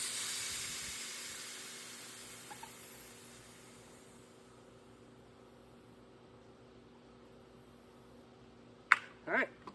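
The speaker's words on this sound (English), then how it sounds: "So hit this relief valve." Air rushing out of the pressure relief valve on a MisterSkeeter mosquito sprayer tank: a steady hiss that is strongest at the start and slowly tapers over several seconds, followed near the end by a couple of brief knocks.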